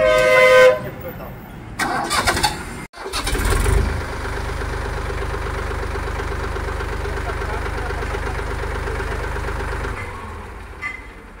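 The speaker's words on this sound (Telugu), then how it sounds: "న్యూట్రల్ చేస్తేనే స్టార్ట్ అవుతుంది" Mahindra Orchard 265 DI XP Plus tractor engine cranks, catches and settles into a loud, steady diesel idle that runs close by for several seconds before cutting out.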